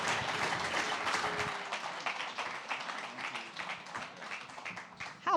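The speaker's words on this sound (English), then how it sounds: "How about another round of applause for my BlueCube friends?" Audience at a Central Oregon PubTalk gathering claps steadily for several seconds, a dense wash of many hands from a crowd that thins slightly toward the end before a final burst.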